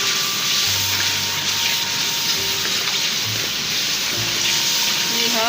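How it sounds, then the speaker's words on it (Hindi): Spices roasting in a pot for aloo matar vegetable pulao, a steady hiss and sizzle with occasional stirring, close and continuous, with some faint background tones. "सब मसाले मैंने शामिल कर दिए हैं। अब इनकी भुनाई करूँगी।"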